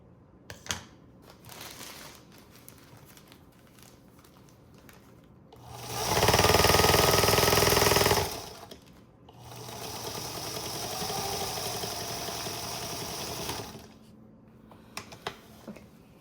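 A sewing machine stitches a cuff onto a hospital gown sleeve in two bursts, a loud fast whirring run followed by a slightly softer longer run, with small clicks and handling noises around them.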